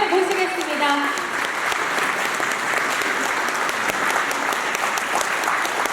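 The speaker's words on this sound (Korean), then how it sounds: "큰 박수로 김철진 도의원님을 모시겠습니다." An audience at a policy forum in Ansan claps to welcome a provincial council member. A voice is heard briefly at the start, then sustained, even applause fills the room.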